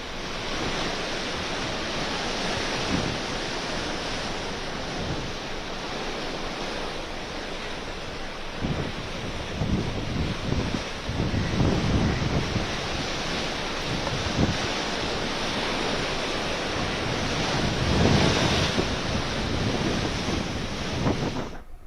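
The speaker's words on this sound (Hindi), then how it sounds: "गेटवे ऑफ इंडिया पर समुद्र में ऊंची लहरें उठ रही हैं" High sea waves crash and roar at the Gateway of India in Mumbai during Cyclone Biparjoy, a loud continuous surf wash with wind buffeting the microphone and surges swelling throughout.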